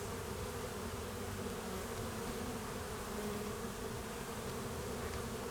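Honey bees hum in a dense, steady drone during a January hive inspection, a constant close buzzing swarm sound that continues without pause and with no talking.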